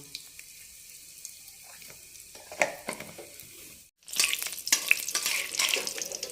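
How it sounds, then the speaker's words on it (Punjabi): Cumin seeds and a few pinches of asafoetida dropped into hot oil in a wok for a dhaba-style cluster bean curry, a soft crackle building into a louder, steady sizzle midway through, with no talking. "ਤੇਲ ਗਰਮ ਕਰ ਲਿਆ ਤੇ ਇਹਦੇ ਵਿੱਚ ਹੁਣ ਆਪਾਂ ਪਾਵਾਂਗੇ ਜੀ ਜੀਰਾ ਅੱਧਾ ਚਮਚਾ 2-3 ਪਿੰਚ ਆਪਾਂ ਹਿੰਗ ਪਾਵਾਂਗੇ"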